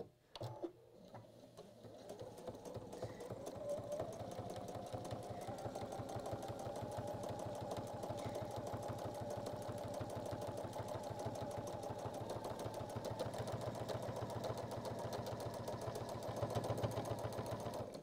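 A sewing machine stitches through pinned fabric in a continuous, even rapid whirr that starts after a brief pause and runs steadily, fairly close.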